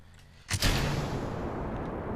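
Rocket lifting off in the video game Kerbal Space Program: a sudden thunderous ignition blast after a quiet moment, then a sustained, heavy engine roar that holds loud to the end.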